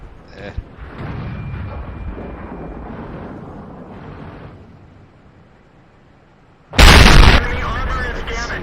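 A tank cannon fires in the World of Tanks video game, a sudden loud blast late in the clip that follows a stretch of rumbling engine and wind-like noise, with a voice talking earlier.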